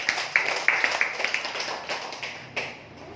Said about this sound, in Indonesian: Beri tepuk tangan buat Haji Febrian Agung.